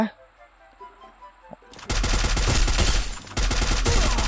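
Gunfire in the video game Free Fire: after a quiet stretch, loud bursts of rapid automatic shots erupt and keep going with dense overlapping cracks for a couple of seconds, then a short pause and more firing.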